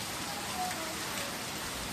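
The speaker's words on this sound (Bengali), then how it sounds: "বাইরে নেমেছে ঝমঝম করে বৃষ্টি।" Heavy rain pours down outside, a steady dense hiss of drops that runs without pause and with no voices over it.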